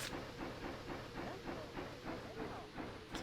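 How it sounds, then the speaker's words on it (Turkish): Game train arriving in the farming game Hay Day, with a steady rhythmic clickety-clack and hiss over a low rumble, ending in a brief bright steam burst. "Tren mi geliyor? Tamam trenimiz gelsin."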